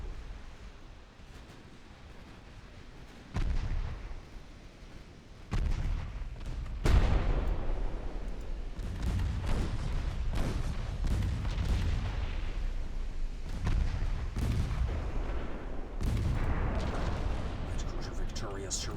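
Warship gunfire in the naval battle game Ultimate Admiral Dreadnoughts, with heavy booming salvos landing at irregular intervals over a continuous rumble of sea and battle noise, under someone talking.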